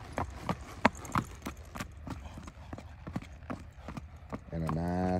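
An 11-year-old red roan Quarter Horse mare's hooves clip-clop in a slow, uneven series of sharp strikes. A voice speaks, and a louder sustained tone comes in near the end.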